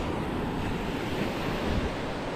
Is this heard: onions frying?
no